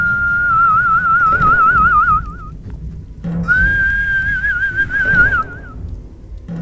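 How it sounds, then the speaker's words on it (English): A person whistles into a microphone to control a whistle video game, with two sustained wavering whistled tones separated by a short pause, close and loud over faint background noise. "This is a whistle game, I guess."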